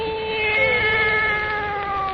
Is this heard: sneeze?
no